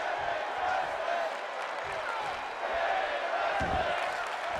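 Arena crowd in the WWE 2K22 wrestling video game, a steady wash of chanting and cheering that runs throughout, with faint thuds beneath.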